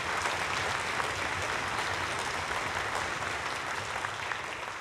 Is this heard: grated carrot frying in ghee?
no